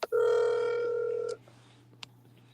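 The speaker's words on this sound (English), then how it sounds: "I heard the phone ring." A telephone rings once with a steady electronic tone for about a second, then falls to a quiet low hum with a faint click.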